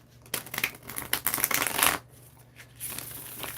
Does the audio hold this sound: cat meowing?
no